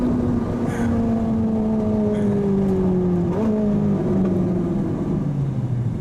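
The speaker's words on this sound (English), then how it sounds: "The accelerations in my car, can't even talk." A Ferrari 458 Italia accelerates hard, its loud engine note climbing steadily in pitch, dropping briefly at a gear change partway through, then climbing again, with no talk.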